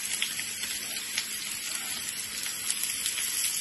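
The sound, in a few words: crushed garlic frying in a pan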